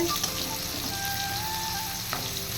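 Food frying in a pan on a home kitchen stove, a steady close sizzle that runs without a break through the whole stretch.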